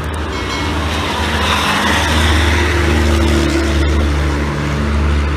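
A Hino RK bus engine rumbles loudly and steadily as the coach passes close by on a highway near a rest area, with deep low drone and broad road noise throughout.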